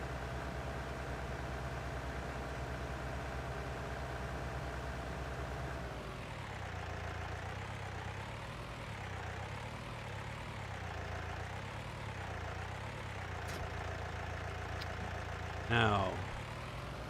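A tractor engine hums low and steady in a farming game, droning continuously at moderate volume with a slight shift in pitch partway through and a brief louder blip near the end.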